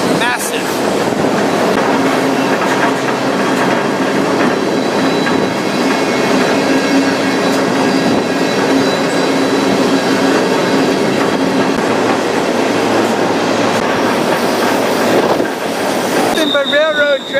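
A freight train rolls along railroad tracks through a winding wooded canyon, a loud steady rumble with wheel squeal and clickety-clack running throughout, easing off near the end.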